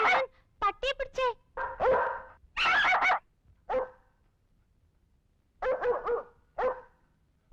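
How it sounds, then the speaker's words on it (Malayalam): A dog barks at a visitor outside a house, giving several sharp, close barks and yips in irregular bursts separated by short quiet gaps. "പട്ടിയെ പിടിച്ചേ"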